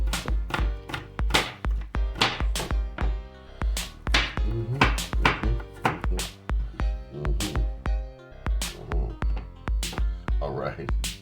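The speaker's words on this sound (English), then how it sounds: "Well, I'm chopping that up too." A single clove of garlic chopped on a board for homemade chicken soup, the knife striking in quick, steady near-field taps that run continuously, loud and alone.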